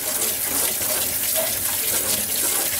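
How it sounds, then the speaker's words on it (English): Clams rinsed under a running tap, a steady, close hiss and splash of water falling into a sink, unbroken and alone. "So we're going to give them a rinse"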